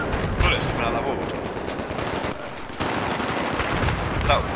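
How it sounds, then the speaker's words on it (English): Sustained automatic gunfire from a Battlefield 3 battle, with dense overlapping bursts and sharp cracks running steadily throughout, loud and close, with a brief lull in the middle. "Bullets coming out of that wall."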